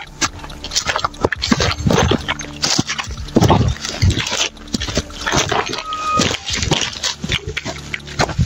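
A dog barks and whimpers repeatedly at close range, sharp yelps scattered across several seconds amid background noise.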